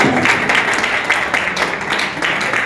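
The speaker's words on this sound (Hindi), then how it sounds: "आप लोग तालियां बजाते हो" Brief, moderately loud clapping from an audience at an RCM trophy presentation, a busy patter of many hands, continuous and slightly uneven over a couple of seconds.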